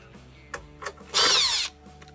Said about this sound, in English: Let's loosen the bolts here.